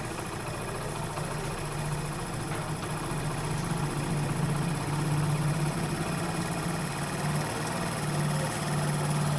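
Honda Pridor motorcycle engine revving at high RPM after a carburettor adjustment, a steady loud close drone with constant vibration and no pauses throughout.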